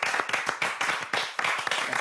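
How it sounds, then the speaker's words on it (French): An audience claps together in dense, steady applause for a couple of seconds, close and fairly loud, with no talking over it. "on peut l'applaudir, monsieur"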